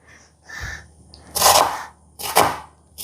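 Food, likely chicken, being chopped for cooking, with two loud, sharp blade strikes against a board, each followed by a short rustle, after quieter handling sounds.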